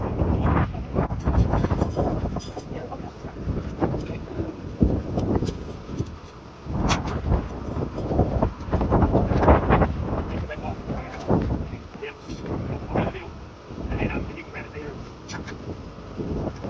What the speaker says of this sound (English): that wind is not really helping matters at all